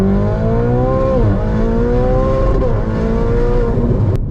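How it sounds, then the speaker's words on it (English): A Ferrari 488 Spider sports car engine revs hard and loud on a desert drive near Las Vegas, its pitch climbing and dipping through repeated sweeps in a continuous close-up roar from inside the car. "Listen to this thing rev."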